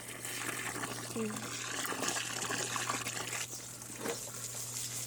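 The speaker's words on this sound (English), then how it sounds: "Put some water in this hole." Water is poured into a dry planting hole for blueberry bushes, a close, steady splashing trickle with a faint low hum in the background and brief sounds of movement.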